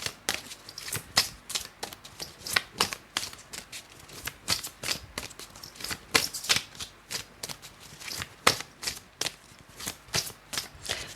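Tarot cards from a deck being handled, drawn and snapped down in a quick, irregular series of crisp papery flicks and slaps, close and fairly soft, with no voice.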